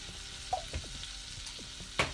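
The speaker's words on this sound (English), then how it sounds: "Butter's sizzling away nicely there" A soft, steady sizzle of butter frying in a pan with a few small pops and crackles, heard up close with no talking.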